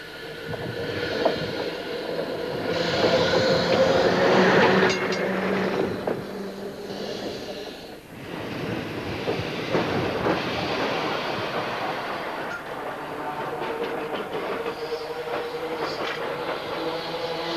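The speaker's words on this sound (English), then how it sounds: "Trams from all parts of Britain are here, and this one is from Hungary." Heritage trams from Britain and Hungary run along rails, a long rumbling roll with rattles and squeals rising and fading, mixed with wind noise and no speech.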